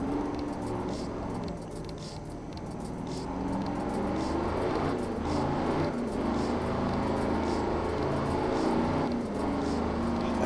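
A Dakar rally truck engine in the video game Art of Rally drones and revs continuously, a loud, steady mechanical roar that swells slightly as the vehicle accelerates.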